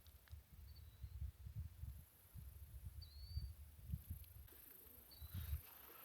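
Pigeons nesting in a giant farmer sculpture on North Dakota's Enchanted Highway coo in low, repeated pulses that roll on steadily outdoors, with faint higher chirps above.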